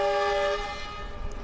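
A red-fronted train at a trackside market in Honghe, Yunnan sounds a loud, close horn blast as it speeds up. The horn cuts off after about half a second, leaving a steady rolling rumble.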